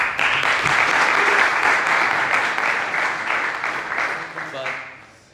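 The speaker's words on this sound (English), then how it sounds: "We can give him a round of applause." A yeshiva audience breaks into loud, sustained applause that holds steady for several seconds, then thins out as a voice begins speaking near the end.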